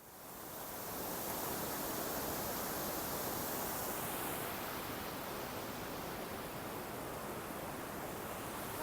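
Steady broadband rush of a mountain stream at about 2000 metres in the Vésubie, water running over stones, fading in over the first second then holding loud and continuous throughout with no voices.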